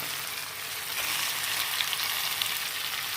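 Lentils frying in oil in a pan for upma, a steady close sizzle with a slight rise in intensity partway through and no talking.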